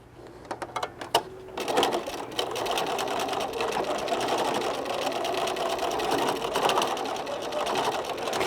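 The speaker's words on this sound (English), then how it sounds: "we'll go to the sewing machine and we'll stitch that down" A sewing machine stitches down a fabric zipper case for pencils, running steadily and close up after a few opening clicks and handling sounds.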